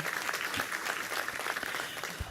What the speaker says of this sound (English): Please help me give her a round of applause as well.